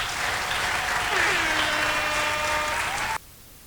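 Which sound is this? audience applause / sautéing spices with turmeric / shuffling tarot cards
audience applause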